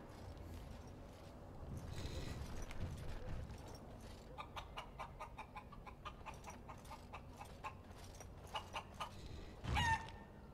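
Chicken clucking in Dragon Age: Origins, a run of short, rhythmic clucks at moderate distance over a steady ambient town bed, ending in one louder squawk near the end.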